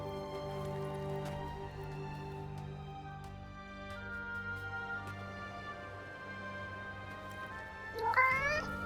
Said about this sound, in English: Hey, that cat.